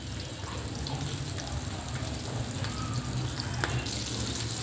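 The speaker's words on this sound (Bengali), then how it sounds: "মাছগুলো ভালোভাবে ভেজে নিচ্ছি" Shrimp frying in hot cooking oil in a pan, a steady close sizzle with crackling pops continuing throughout, no voices.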